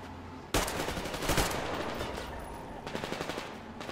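Rapid automatic gunfire in the shooter game Metro Exodus sounds in two bursts of crackling shots, the first dense and loud and the second lighter, with no voices.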